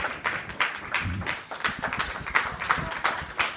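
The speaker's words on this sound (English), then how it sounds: "You guys clapping together, clapping in unison." Audience clapping together at a live talk event, a steady rhythmic run of claps of moderate loudness, fairly close, with no talk over it.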